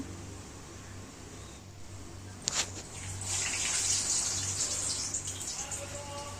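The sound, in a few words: vadas frying in oil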